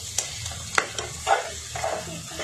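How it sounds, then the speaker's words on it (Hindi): Spoon scraping and stirring boiled potatoes through a sizzling pav bhaji vegetable mixture in a hot pan, a few irregular scrapes over a steady close fry, no talk. "ये आलूओं को अच्छे से हम इसमें ही मिक्स करेंगे।"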